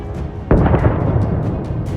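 An artillery shell strikes an armored vehicle: one sudden heavy blast breaks over steady background rumble, then a rolling low boom decays amid faint crackle.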